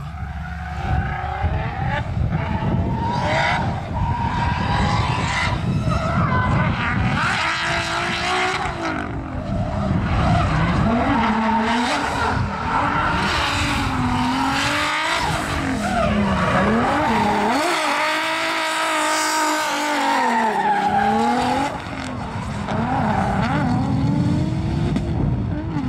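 Race car at a folkrace elimination heat in Hultsfred, its engine screaming loud and continuous through gear changes, with tyres skidding and squealing on the loose track, plus brief wind and crowd noise.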